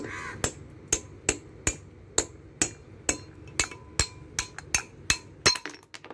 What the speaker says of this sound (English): using a number 18 socket, you can simply insert it here and then hammer it down